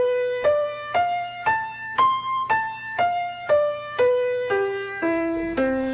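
Single melodic instrument plays an arpeggio on scale degrees 1, 3, 5, 7 and 9 in C, rising note by note and then descending, about a dozen evenly spaced plucked tones ringing alone with no voices.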